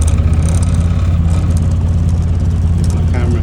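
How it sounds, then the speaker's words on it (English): A 1293cc turbocharged 110 bhp Mini engine runs just after a cold start with no choke, a loud, close, steady low rumble that holds evenly throughout with little sign of a distinct rev. "This is a cold start, so no choke. I'll just give it a little bit of a rev."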